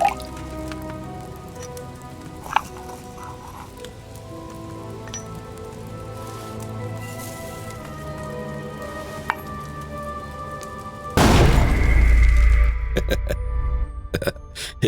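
A gunpowder blast goes off in Kingdom Come Deliverance 2 as a sudden loud, deep boom near the end, breaking a long stretch of quiet clinking and grinding, with scattered crackles after.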